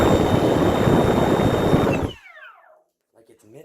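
A 1400kv electric ducted fan in a Freewing Stinger 90 jet runs at a loud, steady whine, then spools down and fades away, followed by faint talk.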